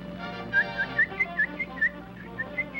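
A bird whistles a short, bright tune of about a dozen clear rising notes in a steady melodic rhythm, fairly faint against a quiet background.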